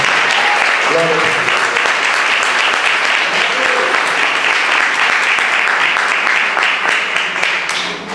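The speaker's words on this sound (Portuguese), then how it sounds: "Alguém pode dar uma salva de palmas agora a Deus?" A church congregation gives a loud, sustained round of applause to God during a worship service, dense clapping filling the room from start to finish, with a voice briefly heard over it.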